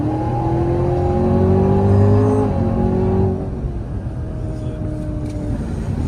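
A 2020 Camaro ZL1 Track Pack engine pulls hard under acceleration on a test drive, a loud rising roar that climbs through a gear, then drops to a lower, steadier drone after about three seconds.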